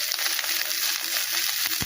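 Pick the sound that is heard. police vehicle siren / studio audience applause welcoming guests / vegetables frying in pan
vegetables frying in pan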